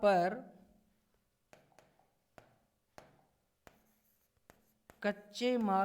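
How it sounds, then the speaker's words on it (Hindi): Chalk taps and scratches in short, regular strokes as a teacher writes by hand on a board, faint and close, between bursts of someone speaking Hindi at the start and end. "इसको मैं हिंदी में लिख देता हूँ"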